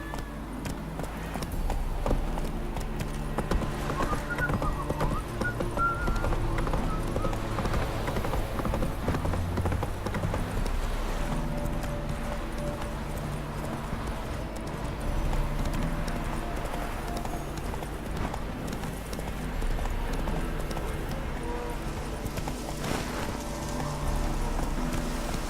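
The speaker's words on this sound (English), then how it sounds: "Run, Roach" A horse gallops in The Witcher 3 video game, its hooves clip-clopping in a quick, continuous rhythm throughout, close and prominent over game music and ambience, with a brief bit of speech.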